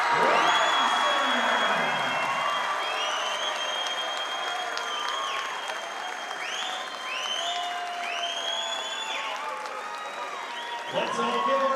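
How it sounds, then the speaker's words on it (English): A championship game crowd applauds the all-tournament team with sustained clapping, whoops and whistles, and voices mixed in throughout. A fresh burst of cheering comes near the end. "Let's all give our all-tournament team a big round of applause."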